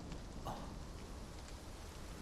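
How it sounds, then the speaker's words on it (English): Rain falls in a video game as a soft, steady hiss. The ambience is quiet and even, broken only by faint drip-like ticks, and no one speaks. "It's raining."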